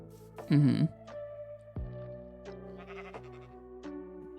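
A sheep in Minecraft gives one loud, wavering bleat near the start, followed by fainter game clicks and thuds, including a low thump.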